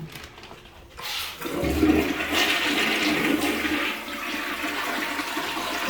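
A budget toilet flushes with strong water pressure, the rush of water starting after a quiet second and pouring loudly and steadily, then easing slightly toward the end, close and clear.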